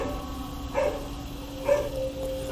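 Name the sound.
recorded dog barking played from a drone speaker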